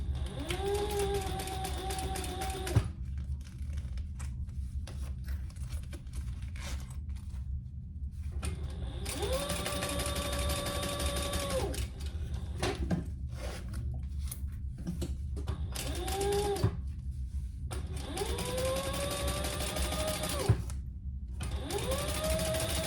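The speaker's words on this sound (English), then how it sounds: "we're gonna sew that at our full seam allowance" A domestic sewing machine stitches a seam in several bursts that rise and settle in motor pitch, with short pauses between runs, loud and close under a steady low room hum.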